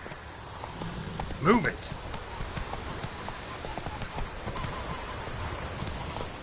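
Roach, a horse in The Witcher 3, clip-clops in game hoofbeats, with a brief whinny partway through. Short speech overlaps the steady, moderately loud footfalls.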